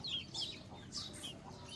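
Desi hens and chicks clucking in a yard, a few short soft cheeps and clucks at moderate distance, fairly faint.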